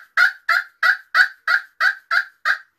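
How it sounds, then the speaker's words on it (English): A wild turkey gobbles eight times in a quick, even series of loud, close, rattling calls, each a short burst separated by brief silences, with no other sounds around it. "you hear the gobble"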